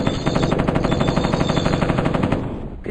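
An M60 machine gun fires in the 1995 video game Mortal Coil: Adrenalin Intelligence, a loud, close, steady rapid burst of evenly spaced shots lasting nearly three seconds before cutting off.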